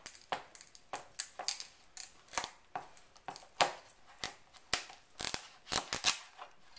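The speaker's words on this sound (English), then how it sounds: "I'm going to cut my butternut squash lengthwise" A sharp knife cuts lengthwise through a thick butternut squash on a cutting board, with a run of irregular crisp chops and crunches, close and fairly quiet, each stroke separated by brief pauses.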